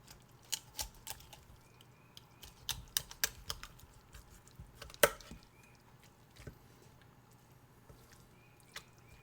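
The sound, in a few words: cutting out pork spine for ramen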